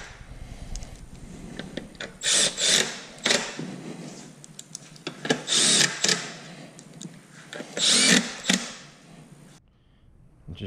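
A ratchet drives bolts back into the carrier trim piece of a Model 3 during a trailer hitch install, in repeated loud bursts of rapid mechanical clicking separated by brief pauses.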